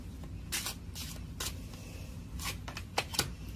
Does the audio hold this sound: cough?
no